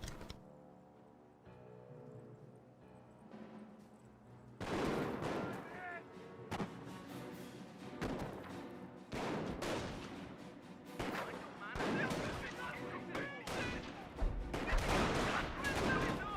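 Gunfire and artillery bursts in the Company of Heroes real-time strategy game: repeated loud volleys of shots and booms after a quieter opening, with a commentator talking over the battle.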